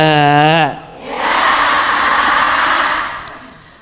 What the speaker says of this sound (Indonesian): Tepuk tangan buat Bunda yang sudah bertanya